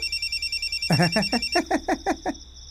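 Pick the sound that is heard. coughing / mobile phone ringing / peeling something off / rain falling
mobile phone ringing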